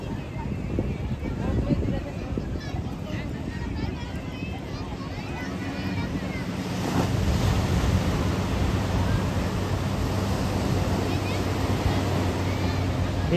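Sea waves wash in at Diu beach as a steady, broad roar of surf that swells slightly louder midway, with wind buffeting the microphone and no talking over it.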